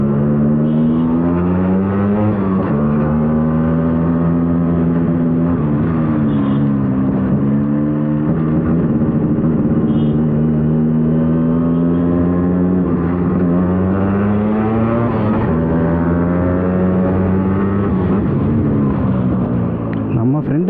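A 1990 LML Vespa NV two-stroke scooter engine drones loudly while riding in traffic, its steady buzzing tone rising and falling with the throttle throughout.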